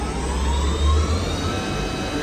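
A gear-head milling machine's vertical spindle motor whirs with a steady loud hum as its pitch rises from about 840 rpm, set against a deep low drone.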